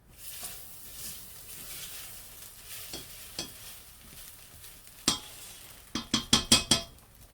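Bolognese sauce being stirred in a pan, a soft scraping swirl with faint sizzle, then a quick burst of sharp spoon taps and clinks against the pan toward the end.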